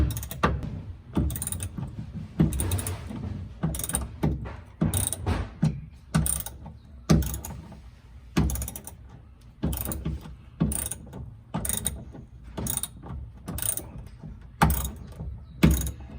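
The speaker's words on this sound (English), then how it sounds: "So one of us will have to hold it while the other one takes the final bolt out." A ratchet wrench works a bolt loose from a truck bed rack, its sharp clicking coming in steady repeated bursts up close, each run of clicks followed by a brief pause as the handle swings back.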